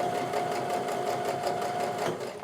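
A sewing machine runs steadily, stitching a quarter-inch quilt seam with a fast, even mechanical chatter and a faint steady whine, close by and uninterrupted for a couple of seconds.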